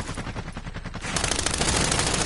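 Warzone gunfire, rapid automatic bursts that thicken into dense overlapping fire, loud and close with no voices.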